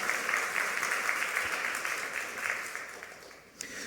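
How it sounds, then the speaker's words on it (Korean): Applause from a church congregation during a Sunday service, a warm wash of many people clapping together that slowly tapers off toward the end, with no one speaking over it. "박수 한번 주시죠."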